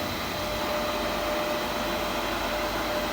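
Refrigerant recovery unit pulling a deep vacuum on a large dual HVAC system, a steady broadband mechanical whoosh and hum that stays constant throughout, moderately loud and close with no speech.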